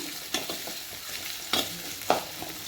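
Chopped tomatoes sizzle in hot oil for a chicken kulambu, with a steady frying hiss broken by a few short stirring scrapes against the pan.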